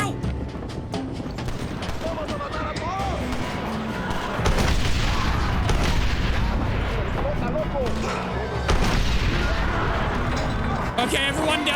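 Repeated cannon and gunfire blasts ring out in the Red Dead Redemption video game, loud booms growing heavier midway through a busy battle, while someone talks over the action.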